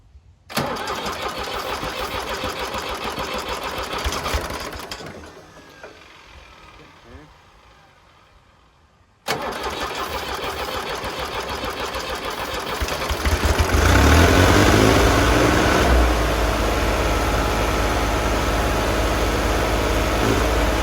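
A Fiat crawler tractor's diesel engine, fitted with a Bosch VE injection pump, turns over and runs roughly, cuts out into near quiet for a few seconds, then catches again and grows louder and steadier, with voices in the background.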